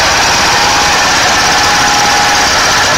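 Marine boat engine cranked over during a spark check, giving a loud continuous buzzing, rattling drone with no pauses.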